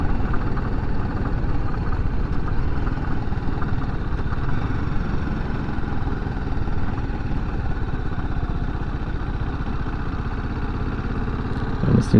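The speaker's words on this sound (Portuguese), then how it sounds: "deu para sentir que o motor grita forte" A BMW G310GS motorcycle engine roars steadily and loudly throughout, a rough continuous rumble with no break.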